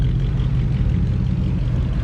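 A gold 1966 Tornado classic car idles at a cars-and-coffee meet, its engine giving a steady, low, continuous rumble that holds even and fairly loud throughout.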